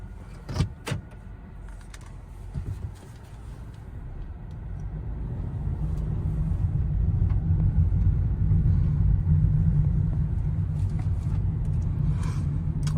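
A 2019 Hyundai Kona pulls away and drives, a low engine and road rumble building steadily after a few brief knocks at the start, with no talking.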